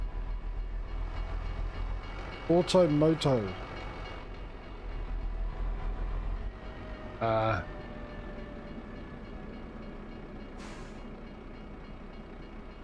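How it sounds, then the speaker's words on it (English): A train passes in the driving game Euro Truck Simulator 2, with a couple of loud horn blasts early on and a shorter one later over steady truck engine rumble, while someone talks over it. "Just made it through with the train."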